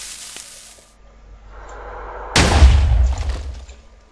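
A TNT block explodes in Minecraft: a faint fizzing fuse hiss builds up, then a single loud, booming blast rumbles and slowly fades.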